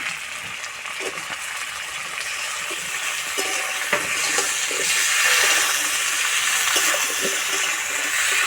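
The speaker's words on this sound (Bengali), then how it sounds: "আলুর সঙ্গে টমেটো কিছুক্ষণ নেড়ে নেব" Fried potatoes and chopped tomato hiss steadily in a pan while a utensil stirs them, giving soft scrapes and a few light knocks against the metal over a constant sizzle.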